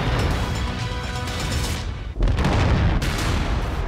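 Heavy mech cannon fire from a battle in MechWarrior 5 Mercenaries: a dense, loud roar of booming gunfire with a sharp impact about halfway through, followed by more rumbling blasts, all close and continuous.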